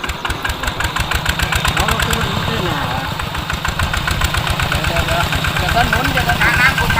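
A hand-cranked Kubota engine runs with a loud, rapid, rhythmic thumping chug that stays close and steady, while voices talk over it.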